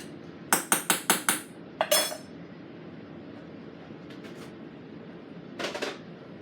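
A spoon mixes seasoning into adobo in a rice cooker pot, giving a quick run of five sharp metallic clinks, then a short scraping clatter and faint light knocks a few seconds later.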